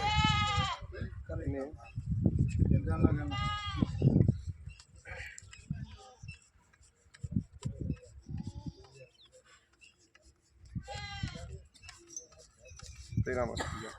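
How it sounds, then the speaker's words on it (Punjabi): Castrated Barbari goats bleat several times, loud and close, in short wavering calls scattered among people talking at a livestock sale. "ਬਰਬਰੀ ਤੇ ਖੱਸੀ ਆ ਬੱਕਰੇ"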